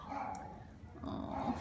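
Puppies whimper and yip softly at an adoption shelter in a mixed, close-up flurry of little cries, with some background noise throughout.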